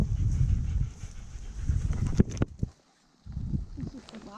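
A wet German Shepherd pants quickly and close by on a rainy hike, the rapid breaths broken by a few sharp knocks and a short pause before the panting resumes.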